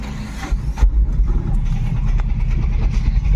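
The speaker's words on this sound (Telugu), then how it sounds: "బ్రిడ్జ్ వరకు ఉన్నట్టుంది ట్రాఫిక్ జామ్" Road traffic in a jam near a cable bridge in Begumpet, Hyderabad: a loud, close engine drone with idling vehicles and passing noise, steady throughout.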